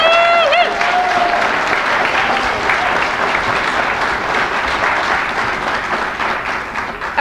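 Sustained audience applause at a conference on normalizing US–Cuba relations in New York City, a loud, dense wash of many hands clapping that holds steady throughout, with a brief tonal sound at the start.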